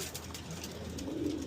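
Pigeons coo softly in low, rounded calls over a quiet background during their bath time, faint and close, with no talking.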